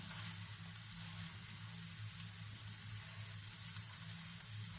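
Kashmiri red chilli powder and turmeric roast in a hot pan with a soft, even frying hiss that holds steady, with no clear stirring strokes standing out.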